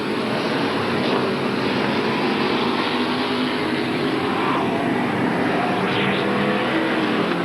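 A dense, continuous roar of race cars circling Midvale Speedway during a 1980 race, a loud steady engine wash with slight swells as cars pass.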